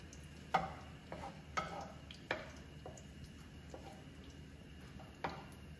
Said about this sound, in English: You want to fry the peppercorn until you can smell something really nice